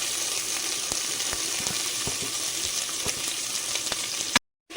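Onions fry in a pan for egg biryani, a steady close sizzle with occasional faint clicks and stirring, ending in a brief cut to silence.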